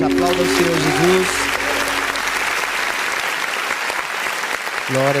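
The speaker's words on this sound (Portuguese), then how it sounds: "aplauda o Senhor Jesus" A church congregation breaks into sustained applause during a worship service, broad and steady clapping from the crowd; a voice speaks over the opening moments and again near the end.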